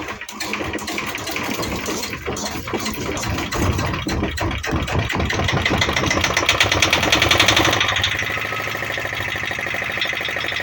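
A YSE8 marine diesel engine, hand-cranked while still fairly cold, chugs with rapid rhythmic knocking that builds in loudness, then settles into a steadier running beat near the end.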